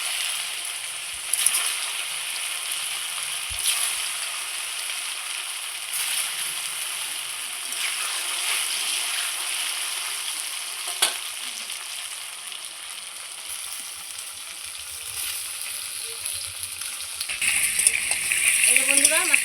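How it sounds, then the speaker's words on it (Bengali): Taro pieces fry in hot oil in a wok with a steady crackling sizzle, punctuated by a few clicks and occasional stirring sounds, growing a little busier toward the end. "এইবার আমি সজি কচুগুলো ছেড়ে দেবো, খুব সুন্দর করে ভেজে নেবো তেলের মধ্যে।"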